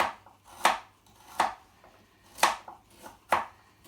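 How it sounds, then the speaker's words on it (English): A knife slices through a carrot on a cutting board in four crisp, evenly spaced chops, close and fairly quiet with no talking. "just quickly slice your carrot up"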